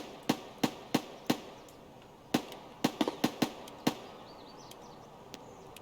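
Rounds being loaded into a rifle magazine in Escape from Tarkov: a series of sharp, close clicks, several evenly spaced, a short pause, then a quicker cluster, fading to quiet.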